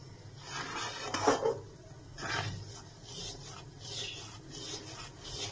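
Palm pulp being stirred in a wok for a sweet palm-fruit kheer, with soft repeated scraping and rubbing strokes of a utensil against the pan at a steady, unhurried rhythm, close and quiet.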